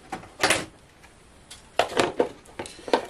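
Lid placed over a container of homemade Greek feta cheese in brine, a few sharp close clatters and knocks of the cover being set and adjusted, in bursts with short quiet gaps.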